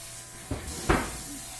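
Two short spray bursts of food colour onto a Christmas cake, a brief soft hiss followed by a louder, longer one, close and with no talking.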